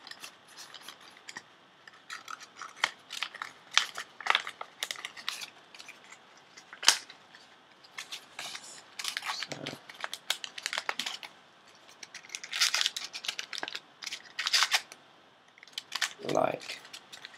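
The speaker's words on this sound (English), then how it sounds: "just try and fold it up so it's kind of in a cube shape" Paper being folded and creased into a cube-shaped part for a homemade paper Uzi, with repeated crinkling, rustling and sharp tapping handling noises close by, spread through the clip.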